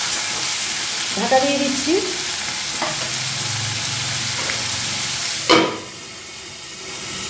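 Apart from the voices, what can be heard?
three large potatoes frying in a pan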